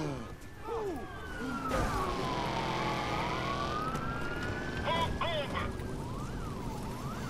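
A police siren wails and sweeps up and down during a car chase in the Watch Dogs video game, over a steady engine and road rumble, with game sounds in the mix.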